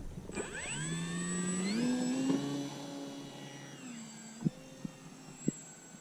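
An FMS Ranger 1800 RC model airplane taxis with a whining electric motor that rises and falls in pitch as the throttle changes, close, then slows to a low hum with a few clicks.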